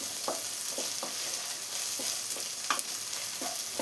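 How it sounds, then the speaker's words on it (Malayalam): Onions sizzle steadily in a pan while a spoon stirs them in regular, scraping strokes, close and moderately loud. "ഇപ്പോൾ സവാള എല്ലാം ഒന്ന് വഴറ്റിയെടുത്തിട്ടുണ്ട്"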